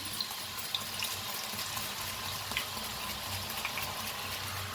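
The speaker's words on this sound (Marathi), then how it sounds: "तर मस्त आपले चिप्स तळायला लागलेत पहा" Raw green banana slices frying in oil for fasting-day chips give a steady, moderate bubbling hiss with faint crackles and pops, continuous throughout with no speech.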